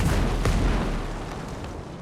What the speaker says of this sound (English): Hostile mortars on the way!